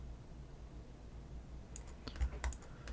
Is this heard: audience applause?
no